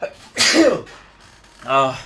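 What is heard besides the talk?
sneeze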